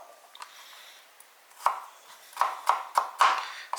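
A knife chops broccoli florets on a cutting board: a few soft cuts, then a quicker run of sharp, close thuds, each clearly separated, with no voices.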